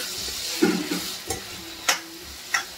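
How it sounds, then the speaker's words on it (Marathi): Onions and tomatoes sauté in hot oil with a steady soft sizzle, broken by several close clinks and scrapes of a spatula stirring the pan. "आता याला चांगलं आपण परतून घेऊया."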